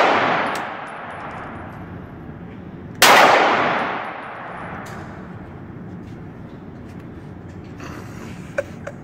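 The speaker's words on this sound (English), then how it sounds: "First shot's gonna scare you. Breathe. Squeeze the trigger." A single loud, close gunshot fired at a shooting range: one sharp crack whose ring fades over about a second, over steady low background noise, with a few faint clicks later.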